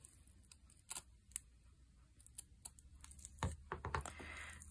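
Scissors snip around a rounded piece of recycled fabric for a slow-stitching bag, faint and close, with a scattered series of short crisp cuts, a few bunched together near the end.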